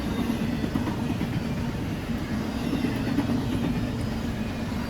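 An intermodal freight train hauling containers rolls past trackside at Daggett, a steady rumbling roar with faint wheel clatter that holds at a constant level throughout.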